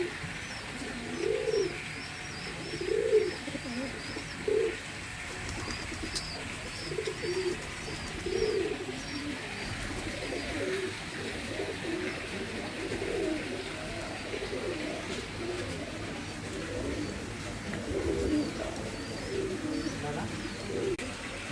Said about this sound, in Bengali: এক জোড়া মাদ্রাজি কবুতর।